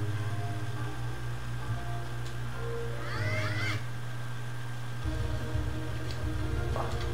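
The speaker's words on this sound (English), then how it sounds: "Oh, meow, meow, is what the cat just said." Cat meows in the video game New Chinese Paladin, a short single meow rising and falling against a steady humming background of game music and noise.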